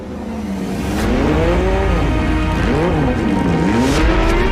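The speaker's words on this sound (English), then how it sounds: "the big key in the back is the 6-cylinder Boxer with its unmistakable sound" A 2021 Porsche 911 GT3 Cup race car with a six-cylinder boxer engine roars loudly and steadily, pitch climbing and falling through repeated revs and gear changes as it drives past at close range.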